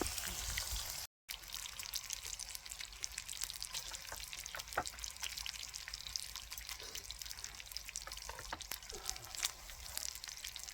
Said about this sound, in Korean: 고기 잘 익고 있죠